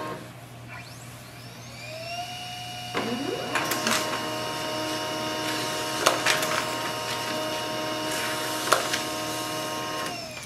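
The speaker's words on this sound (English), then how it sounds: "For example, I'm just going to print this page." A Pantum P2509W wireless laser printer feeds and prints a single page, starting with a rising motor whir, then a steady mechanical hum with rollers and sharp clicks and clunks as the sheet moves through, close and fairly loud with no talk.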